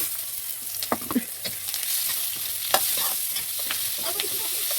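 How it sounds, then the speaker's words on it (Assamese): Meat sizzles in hot oil, with scattered crackles and the scrape of stirring over a constant frying hiss. "এয়া মাংস অকণমান ভাজিম এয়া দি দিছোঁ"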